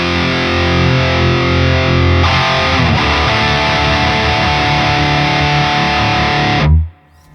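Heavy distorted electric guitar chugs through a Neural DSP Omega Granophyre amp set to very little depth, loud and dense, with a chord change midway and an abrupt stop before a brief tail at the end.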